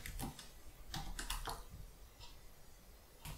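Typing on a computer keyboard while entering code in Houdini, short bursts of crisp key clicks in irregular clusters, close and fairly quiet, with pauses between bursts.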